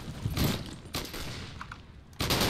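M1919A6 machine gun fired from the hip in the Vietnam-era shooter Unit 1968, heard as short heavy bursts separated by pauses amid battlefield noise, fairly loud and close.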